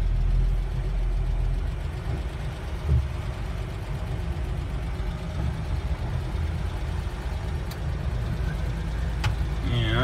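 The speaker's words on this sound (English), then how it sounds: "So obviously we'll go in reverse and back out of the shop here." A 1976 Toyota Land Cruiser FJ40 engine idles steadily and rumbles low as it reverses out of a shop, with a couple of faint clicks near the end.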